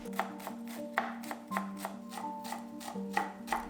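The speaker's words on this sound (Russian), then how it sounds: "осталось только нарезать большой пучок петрушки" Steady knife chopping parsley on a board, regular sharp taps roughly twice a second, close by, over a faint background hum.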